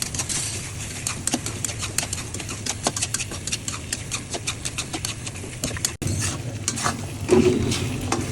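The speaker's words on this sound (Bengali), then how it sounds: "একটু নাড়া করে দিলাম, তাহলে মিক্স হবে।" Garlic and onion paste frying with bay leaf, turmeric, whole spices and green chilies, stirred steadily in a pan: a continuous close sizzle with regular scraping strokes of the spoon throughout.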